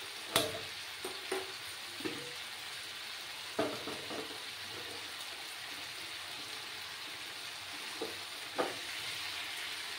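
Mutton masala being stirred and fried in a pan in a Bengali home kitchen, a steady sizzle with a few scattered scraping stir sounds, fairly faint and without talk.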